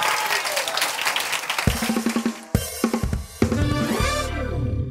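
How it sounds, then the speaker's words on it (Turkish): A studio audience on a Turkish late-night talk show breaks into loud, dense applause that continues as band music comes in over it, the clapping staying prominent beneath the music. "Bir alkışlayalım en iyisi ne olur."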